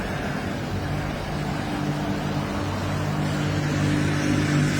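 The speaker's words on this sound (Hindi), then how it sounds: "अब ये मोटरसाइकिल वाला साहिब आया यहाँ पे" An engine hums steadily and loudly at a petrol pump, as a motorcycle arrives, with busy background noise throughout and no talk.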